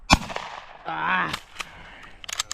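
A single sharp, loud shotgun blast rings out close by at a Tennessee dove hunt opener, followed by a brief shout and some outdoor rustling.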